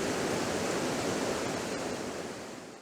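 River water at Sharrah Pool on Dartmoor rushes in a dense, steady roar close at hand, easing slightly toward the end, with no voices.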